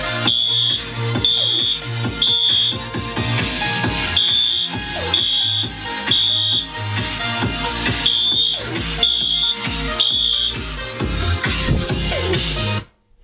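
A Wheelock MT-24-LS fire alarm beeps in repeated short high-pitched bursts over loud music playing throughout.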